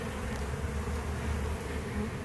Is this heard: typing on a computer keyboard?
no